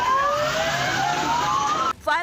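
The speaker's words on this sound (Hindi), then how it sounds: "घटना की सूचना मिलते ही वहां दमकल की कई गाड़ियां भी पहुंच गईं।" A fire engine siren wails loudly and close as several fire trucks arrive at a slum fire, its tone sweeping up and down. It cuts off abruptly near the end, and a brief burst of another sound follows.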